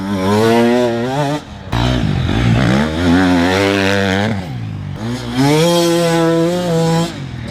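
An enduro motorcycle at full throttle, its engine note climbing in loud, close revs with short breaks for gear shifts and a final surge.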